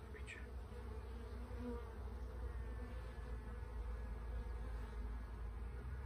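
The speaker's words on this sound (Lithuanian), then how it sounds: "Oi, kiek daug bičių." Honey bees at an open beehive make a steady, dense buzz that runs continuously and evenly throughout, close and fairly quiet.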